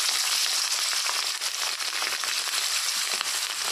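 Katla fish pieces frying in hot oil, a dense, loud, continuous sizzle and crackle close by with no voices over it.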